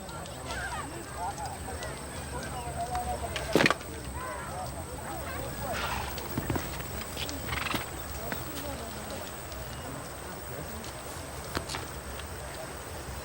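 A horse whinnies and its hooves clop at moderate distance, over a steady hiss and faint voices in the background.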